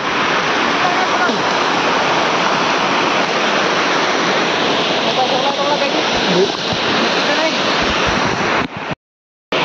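Ghodazari lake overflowing as a waterfall, a loud, steady roar of falling water close by that fills the whole span before cutting out abruptly near the end.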